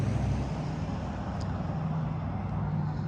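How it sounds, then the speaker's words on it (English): A car passes along a narrow residential street in Queen Creek, Arizona, as a steady broadband road rumble that stays fairly loud and even throughout, with no talking. "there's our first car passing through"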